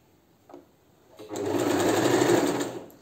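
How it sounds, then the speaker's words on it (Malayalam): A sewing machine stitches a petticoat: a soft click, then the motor starts and runs as a steady, close whirring hum for about two seconds before it slows, with no talking. "ഇതുപോലെ സ്റ്റിച്ച് ചെയ്ത് കൊടുക്കുക."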